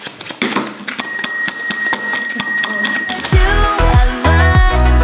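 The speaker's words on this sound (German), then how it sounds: "das ist die Klingel von Halligalli" The bell of a Halli Galli card game is struck several times, bright metallic dings ringing out in quick succession, followed by louder thumps and tones near the end.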